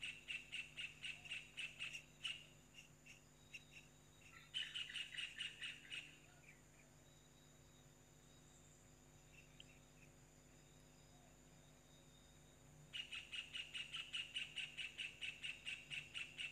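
Faint bursts of rapid, repeated chirps from a parent bird calling to its chick come in three separate runs, with quiet insect hum filling the pauses between them.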